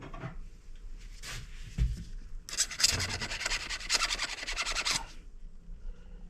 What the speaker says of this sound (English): Let's take a file to it.